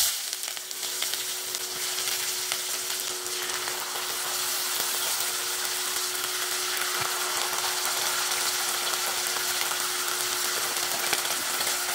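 Spices frying in a pan for a chicken curry with potatoes and tomatoes give a steady, bright sizzle that runs unbroken and close, with a faint hum under it and no talking.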